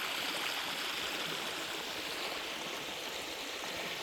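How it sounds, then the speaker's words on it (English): Water rushes steadily over a three-tiered waterfall upstream of a railroad tunnel near Elkview, a constant broad hiss and roar with no pauses, heard fairly close and alone. "Kind of a three-pitched waterfall."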